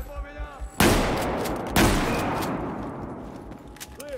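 Gunfire in Battlefield 4 during a campaign mission: two loud, close blasts roughly a second apart, each leaving a long rumbling decay, with faint game sounds before them.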